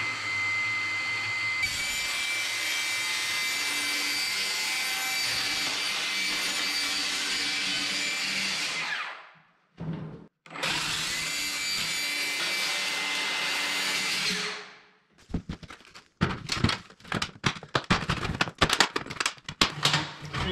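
A power drill bores through a garage roof for an oven vent, a loud sustained whine and grind in two long runs broken by a short pause, followed by scattered knocks and scraping.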